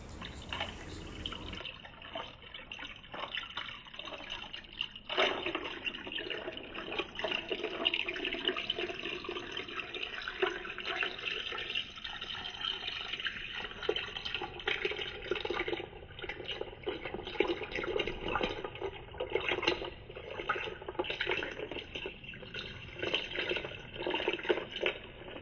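Passion fruit agua fresca poured steadily into a glass, a continuous soft splashing and trickling of liquid lasting the whole time, close by and fairly quiet, with no talking.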